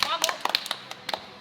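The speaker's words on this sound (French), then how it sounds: "On applaudit s'il vous plaît." A handful of hands clap in short scattered bursts at an indoor climbing gym, cheering girls who have completed a route, brief and fairly close with no talk over it.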